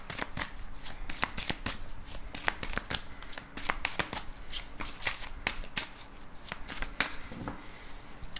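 Tarot cards are shuffled by hand close up, a quick run of crisp papery riffles and slaps repeating steadily for several seconds, with no one talking.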